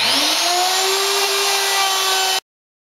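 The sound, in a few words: hybrid pantorouter cutting a mortise in wood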